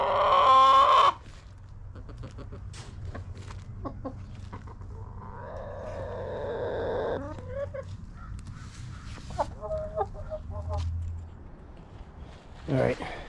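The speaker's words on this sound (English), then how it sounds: "I have no idea what the drama was with those chickens. One of them was screaming." Backyard chickens cluck and squawk in a front yard garden, one loud scream bursting out at the start, then scattered clucking and agitated calls near and far, with a person talking at intervals.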